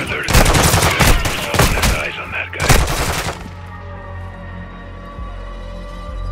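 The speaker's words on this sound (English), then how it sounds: "A gunfire alert." Rapid bursts of gunfire in Call of Duty: Modern Warfare II crackle loudly for a few seconds, then give way to a lingering ring and low rumble.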